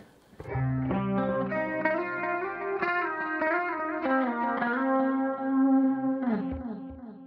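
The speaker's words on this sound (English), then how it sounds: "Space clean." Guitar through the space clean preset of a Boss ME-90 multi-effects unit, shimmering chorus-and-echo notes ringing out in a slow melodic run, bell-like and sustained, played alone without talk.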